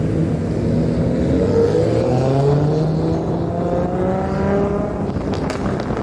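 Exhaust notes from a line of cars driving together in a group, a steady droning engine chorus with rising and falling harmonic tones, fairly loud and continuous with wind noise underneath.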